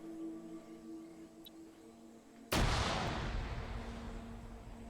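A single loud, sharp gunshot blast from the Arma 3 military shooter, in an esports match in the Tanoa jungle, bursts out midway after a quiet stretch and rings out in a long, decaying tail.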